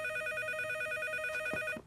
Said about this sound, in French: le téléphone va sonner